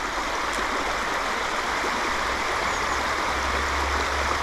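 A trout river flows in a steady, close rushing stream, a constant broadband burble that stays even throughout with no talking.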